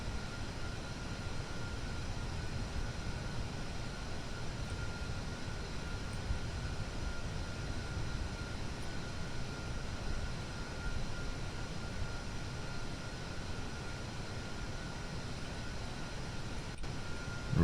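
Steady low rumbling roar of rocket engines firing in reverse thrust in Kerbal Space Program, continuous and loud throughout with no talking, ending in a brief sharp spike.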